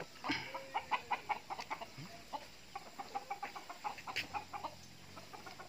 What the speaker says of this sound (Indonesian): Itu ayam Belanda